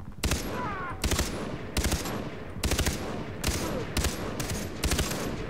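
Bursts of heavy machine-gun fire in the shooter game Far Cry 3, about six short volleys spaced roughly a second apart, loud and close with a steady rumbling backdrop between them.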